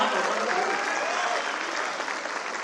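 A poetry recital audience claps steadily, a dense, even burst of applause from a full room that fades slightly toward the end.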